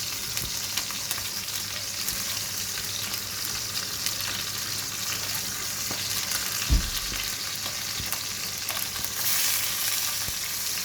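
Chicken supremes fry in a pan with a constant, close sizzle throughout, broken once by a single dull knock midway, with no voices.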